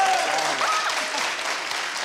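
Studio audience applause on a Turkish television comedy show, a dense, steady burst of clapping filling the whole stretch at close range, with a faint voice rising briefly underneath.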